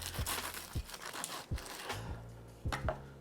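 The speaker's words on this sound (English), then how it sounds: "I like to use a bread knife or a serrated blade for this, and I cut it on a bias" Cheesesteak egg rolls sliced at an angle with a serrated bread knife, a few crisp crunching cuts through the fried wrapper, each ending in a soft knock on the cutting board, close and quiet with no voices.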